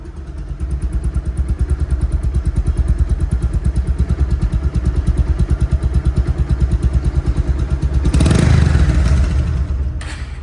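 Close and steady, the engine of a second-hand Bajaj Pulsar DD motorcycle idles with an even, rapid pulsing beat, then swells in one brief rev near the end before dropping back.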